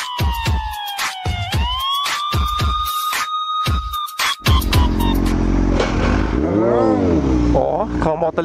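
A smoking motorcycle engine revs up and down loudly nearby, rising and falling in pitch, after a stretch of sharp siren wails and clicks.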